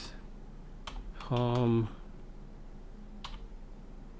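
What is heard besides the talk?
typing on a computer keyboard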